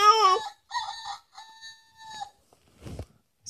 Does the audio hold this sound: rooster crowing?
yes